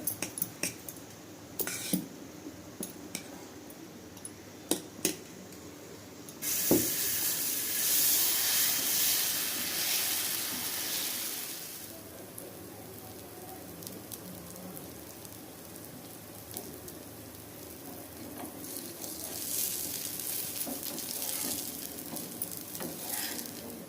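Kuthiraivali millet dosa batter sizzles loudly on a hot pan, a steady frying hiss with occasional scraping and utensil clinks, swelling after the batter is poured and continuing without speech.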